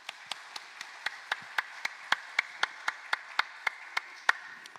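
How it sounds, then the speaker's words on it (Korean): A church congregation claps together in a steady, even rhythm, about three claps a second, with crisp, fairly quiet hand strikes in a roomy space and no talking. "우리 고마운 마음 박수로 전합시다."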